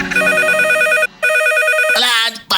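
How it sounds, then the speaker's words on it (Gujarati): A telephone rings in a radio comedy studio with two electronic bursts of ringing separated by a short gap, loud and close, followed by brief clattering and a further chirp near the end. "અલા આજ પાછો ફોન આવે."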